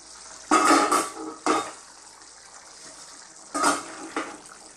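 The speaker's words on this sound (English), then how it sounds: "So on a low heat, let's just cook this little sauce together now." Pastrami tomato pasta sauce cooking on low heat in a pan, heard as soft, intermittent bursts of stirring and scraping against the pot with a faint simmer between, fairly close and moderately loud.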